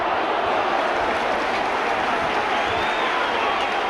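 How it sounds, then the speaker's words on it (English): Spectators at a 1996 Leeds Rhinos versus Sheffield Eagles rugby league match applaud, a dense continuous wash of clapping and crowd noise filling the stadium at steady volume. "Crowd now giving applaud"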